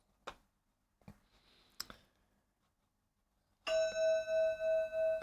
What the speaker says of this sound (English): Yes, you're talking about the bell.